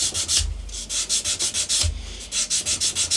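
Guitar frets being sanded with a sanding block: a steady run of rhythmic, close, rasping strokes, about a dozen quick back-and-forth passes with no voices.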